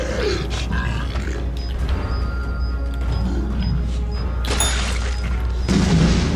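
An enemy bursts apart in Resident Evil 7, a short crashing boom rising out of a dense, rumbling game soundscape with creaks and low drones.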